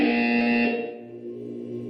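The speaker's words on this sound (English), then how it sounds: "When you hear the buzzer, look down at the floor." A buzzer from the video game Portal 2 sounds alone, a loud harmonic electronic tone held for about a second before it cuts off into a quieter low hum.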